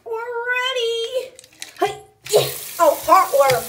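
Hot water gushing from a household tap, a steady broad rush that starts partway through after a voice and other voices, continuing under further speech.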